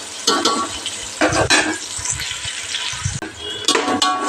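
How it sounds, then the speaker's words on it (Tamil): Green chillies and onions sauté in a pan, with bursts of stirring and scraping of a spoon against metal over a faint sizzle, loud close clatters coming in short clusters. "பச்சை மிளகா வெங்காயம் தான் நல்லா வதங்கட்டும்"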